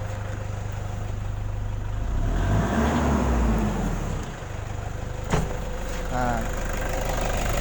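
Toyota Fortuner 2KD-FTV diesel engine with low compression, revved up from idle to a mid-clip rise and settling back, heard close with a steady rumble under someone talking.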